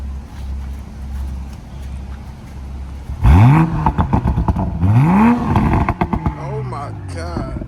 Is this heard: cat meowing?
no